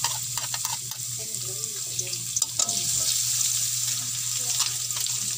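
Garlic fries in cooking oil as a steady, bright sizzle over a low hum, with faint clinks and stirring scrapes in a home kitchen where a bihon dish is being made.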